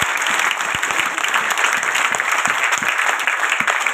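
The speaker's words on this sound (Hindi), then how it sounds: "एक बार 4 लाख के लिए तो ताली" A seminar audience claps together in dense, sustained applause, loud and close, with individual hand claps popping out of the steady roar for the full few seconds.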